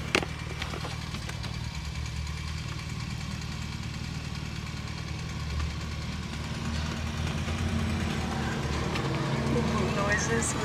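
A modified car with a cab-back exhaust idles steadily nearby, a low rumbling drone that continues throughout while people talk over it.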